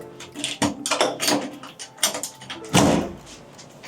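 A door in an upscale Florida home is opened with a series of clunks, rattles and a sliding scrape, ending in a louder thud, heard up close without talking.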